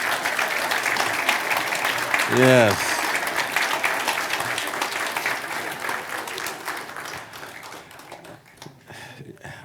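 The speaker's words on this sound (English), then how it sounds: "can we give her a real round of applause?" An audience at a Sunday spiritual service claps for a singer in a brief burst of applause, with people talking over and after it as the clapping fades.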